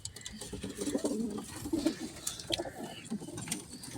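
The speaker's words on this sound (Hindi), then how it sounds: "सफ़ेद आंखों वाला कबूतर है।" A white-eyed pigeon cooing, soft repeated low coos in a steady rhythm, close by, with faint outdoor ambience behind.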